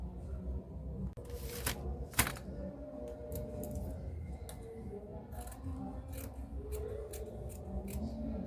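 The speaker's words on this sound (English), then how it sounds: "I'm going to cut a band that is going to be 31 inches long" Scissors cut a fabric band for a pencil skirt, a series of crisp snips at an uneven pace, close up and fairly quiet against a soft room background.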